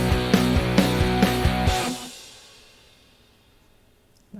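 A drum beat hits several steady accented strokes, then ends with both crash cymbals struck together, their wash ringing out and fading slowly into near silence, with no voices.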